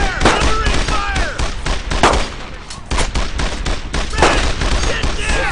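Rapid bursts of rifle and machine-gun fire fill a World War II squad firefight in the video game Brothers in Arms: Earned in Blood, loud and continuous with dense overlapping shots, while soldiers shout commands over the battle.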